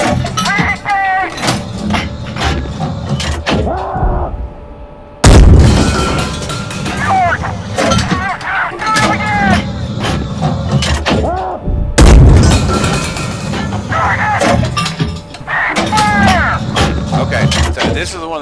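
In the tank game GHPC, a tank's main gun fires twice, each shot a heavy boom separated by several seconds, amid loud in-game engine and combat noise, with voices shouting over it.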